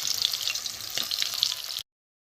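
Prawn fritters with chopped onion sizzle and crackle steadily in hot oil, close up, for a couple of seconds before cutting off abruptly.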